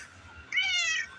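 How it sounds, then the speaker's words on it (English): A cat under a truck lets out a single clear meow, close and fairly loud, lasting about half a second within otherwise quiet surroundings. "She's such a pretty cat."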